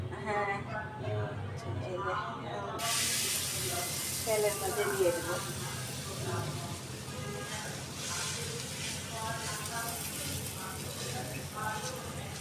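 Chapri, a wheat-flour flatbread mixed with cumin, turmeric, chili and onion, fries in hot oil. A loud, steady sizzle starts abruptly a few seconds in and continues under ongoing conversation.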